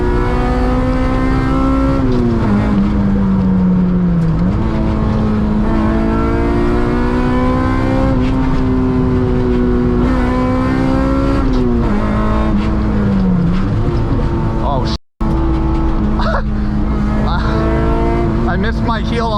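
K20-engined Honda Integra revving hard on a private road run, a loud, continuous in-cabin engine drone that climbs and dips with throttle changes and drops out for an instant near the end.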